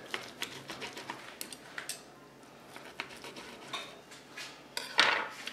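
A knife saws into a rested, reverse-seared bone-in ribeye steak on a board, giving a series of quiet scraping strokes and light clinks of steel, close and intermittent, ending in a sharper scrape.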